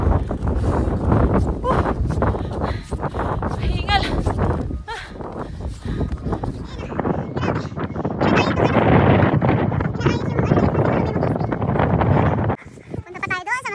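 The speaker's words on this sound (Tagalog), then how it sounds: "Lakas ang hangin nga dito." Strong wind buffets the microphone outdoors on a snowy slope in Spain, a loud, continuous roar that gusts and eases, with voices talking over it and a brief lull near the end.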